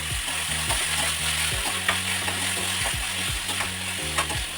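Onion and tomato fry in a pan with a steady sizzle, while a spoon stirs and scrapes in a repeating rhythm close by.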